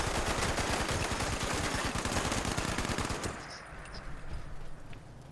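Dense automatic gunfire from a Fallout-style video game battle, rapid continuous bursts roaring for about three seconds before dropping to quieter scattered shots at a distance.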